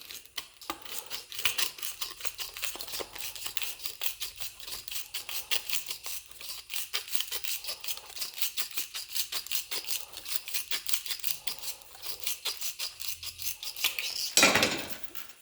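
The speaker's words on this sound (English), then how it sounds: "I'll trim that right around with a pair of tin snips" Tin snips trim the worn rubber edge of a vehicle body mount in a fast, steady train of small crisp snipping and rasping cuts, faint and close, ending in a brief louder scrape.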